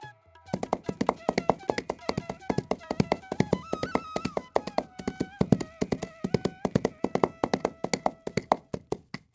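Horse hooves clip-clop in a steady, close rhythmic patter of sharp taps throughout, with a melodic music line running underneath.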